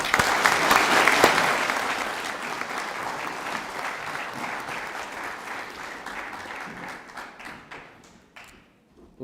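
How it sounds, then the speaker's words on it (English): Audience applause at a high school co-curricular prizegiving, a dense sustained clapping crowd that is loud at first and gradually thins and fades over about nine seconds to a few scattered claps. "Let's give this lot a round of applause."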